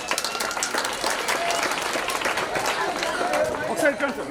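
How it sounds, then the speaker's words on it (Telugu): A school crowd at a centenary celebration claps loudly for state-level throwball champions, dense continuous applause mixed with voices and crowd bustle. "అందరూ పెద్దగా చప్పట్లు కొట్టి"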